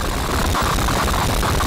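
Harsh, dense electronic noise from a Gen Thalz HNW Machine module roars continuously with a gritty low rumble and a fluttering midrange texture, dry with no reverb and upfront.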